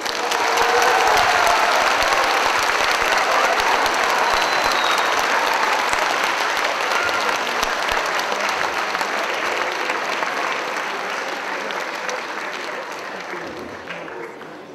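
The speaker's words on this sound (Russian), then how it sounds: "Аплодисменты, друзья!" Audience applause at a Russian speech festival for foreign students in Voronezh, dense sustained clapping from a large hall that slowly tapers off toward the end.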